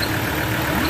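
A Ford Ranger 3.2 with a worn alternator overrunning clutch pulley runs steadily, a continuous engine drone with a faint grinding edge throughout, close by and with no talk.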